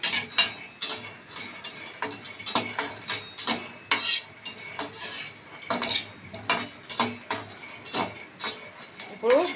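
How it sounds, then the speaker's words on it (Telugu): Peanuts are roasted and stirred in a pan, with a utensil repeatedly scraping and clinking against the metal in a quick, uneven rhythm, close and clear. "ఫస్ట్ బుడ్డలు వేయించుకుందాము."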